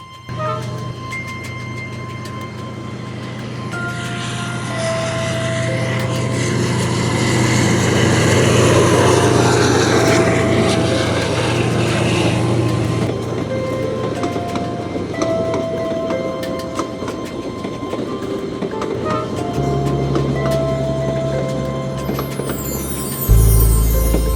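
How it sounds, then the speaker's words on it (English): A train on the Hai Van Pass in Vietnam rumbles past for a long stretch, its steady roar swelling to a peak midway and then easing, with a rattling, clattering undertone throughout. "There's a train coming right now."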